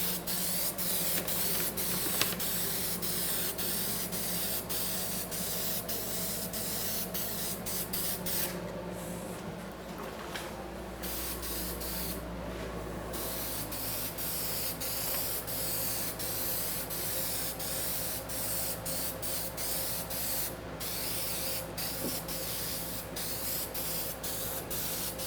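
Steady hiss of spray paint applied to a restored Wilton vise, continuous and close, broken by brief pauses and quick ticks of the nozzle.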